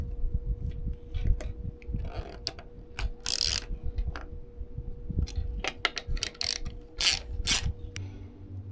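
Ratchet wrench tightening screws with blue Loctite on a Mazda 3 Turbo screen mount for a 10.25-inch CX-5 infotainment display, sounding as close, loud bursts of rapid clicking, several separate runs of ratcheting with short pauses between them.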